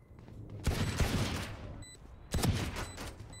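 Two bursts of rapid gunfire from the shooter game Valorant, each a dense, loud volley lasting about a second and a half, separated by a short lull with faint electronic game tones in the background; no voices.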